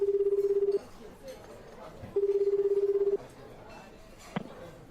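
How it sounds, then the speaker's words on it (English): A telephone rings in the video game 428 Shibuya Scramble: two trilling bursts of about a second each, with a pause between them, followed by a faint click, under quiet background ambience. "The phone rang several times before someone picked up."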